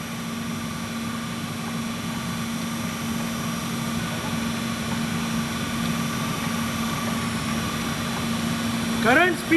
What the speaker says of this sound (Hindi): current speed of the work head 90 RPM, 90 rotations पर मिनट